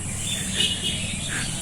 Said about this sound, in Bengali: পাখির আওয়াজ হয়তো আপনারা শুনতে পাচ্ছেন।